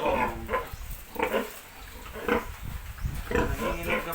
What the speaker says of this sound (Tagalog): Nanginginig na baboy, takot kay bulugan.